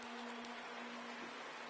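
Steady rain hissing over a foggy street circuit in a racing video game, a constant broadband wash with a faint hum beneath, no voices.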